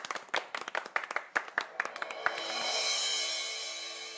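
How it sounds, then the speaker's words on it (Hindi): A TV-show host and family clap to welcome a new female guest home: a dozen sharp, close claps in quick rhythm, then a swell of bright shimmering music takes over. "मोना जी के लिए तालियां"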